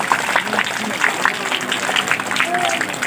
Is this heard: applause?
yes